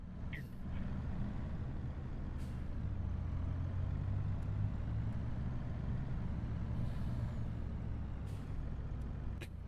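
Logging truck in Farming Simulator 25 driving at night, a steady low engine drone running throughout with a few short hissing air-brake releases breaking in.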